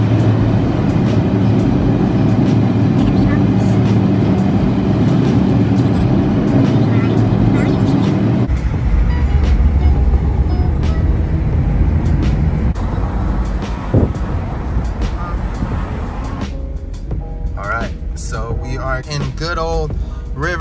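An Acura RSX on the road carries a steady low road and engine drone with a voice talking over it, then the tone shifts midway to lighter rumble and scattered rattles.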